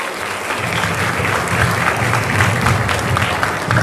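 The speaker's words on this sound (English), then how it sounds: "Clap it up for yourself." Graduation audience applauds the high school class of 2026, a dense, steady wash of many hands clapping close and loud, swelling slightly after the first second and continuing throughout.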